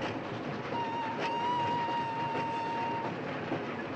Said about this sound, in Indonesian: saat kereta berjalan pelan di sebuah persimpangan rel